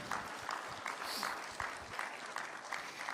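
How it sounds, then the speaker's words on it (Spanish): Church congregation clapping for God after a Spanish-language sermon, a quiet, distant patter of hands with rhythmic swells, heard alone without speech. "Dale un fuerte aplauso a Dios."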